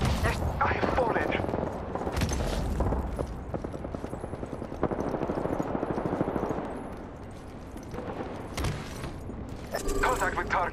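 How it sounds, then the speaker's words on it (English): Sustained automatic gunfire rattles through an Apex Legends match, rapid shots crackling almost continuously in dense bursts with brief lulls. "Shots fired at me."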